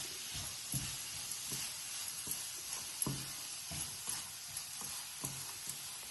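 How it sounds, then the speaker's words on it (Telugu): Khoa melting in a hot pan for gajar halwa gives a steady soft sizzle, with faint low knocks of stirring repeating every half second or so, close and fairly quiet. "హీట్ చేస్తే కోవా అంతా మెల్ట్ అవుతుంది."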